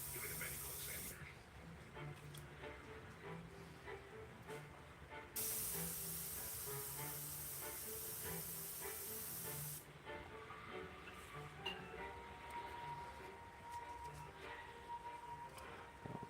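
An airbrush spraying paint while blocking in a piece before final details, a steady close hiss that cuts in and out in long bursts over a constant background hum, with faint voices from a crime drama playing nearby.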